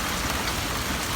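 Rain sprinkling outdoors over a garden, a steady soft hiss of drops with no distinct individual hits, even and constant throughout.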